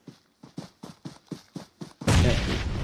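A grenade goes off in a BGMI battle royale match after a run of about seven evenly spaced, muffled gunshot thumps, then a loud, sustained boom that fills the rest of the clip.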